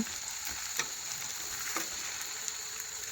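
Poha fritters (chire bora) frying in oil in a pan, a steady close bubbling sizzle with a few faint clinks of a spatula as they are turned, no voices.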